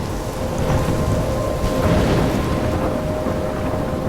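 A loud, continuous thunderstorm rages in Life Is Strange, with heavy rain and deep rolling thunder swelling midway, with no voices over it.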